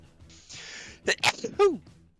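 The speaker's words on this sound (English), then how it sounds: "Thanks to whoever in chat said bless you for the sneeze." A person sneezes once, sharply and close to the microphone, during a game developer's livestream, followed by a short breathy vocal sound.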